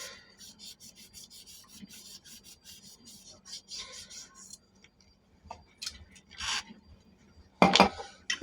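Metal blades and parts of a 12-inch electric fan are scrubbed clean by hand, a steady close rasping rub with brief pauses and a sharper louder scrape near the end.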